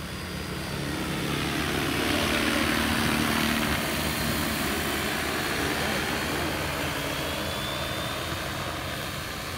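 A large agricultural spraying drone flies a figure-eight over the Ariake Sea, its rotors giving a steady, loud, continuous drone throughout, with people talking underneath.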